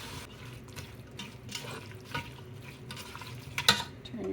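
A spoon stirs shrimp chilli sauce in a pot on the burner after spices, Worcestershire sauce, red wine vinegar and bourbon go in, giving a steady wet scraping and swirling at close range with light sizzle and no talking.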